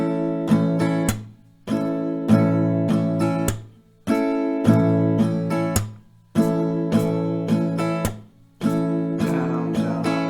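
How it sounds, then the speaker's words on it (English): Acoustic guitar strums a down-down-up pattern with a percussive clap on the strings; steady rhythmic chords, near and loud, with regular short pauses between rounds. "So a couple of rounds slower, so you get this in a context. It will sound like this."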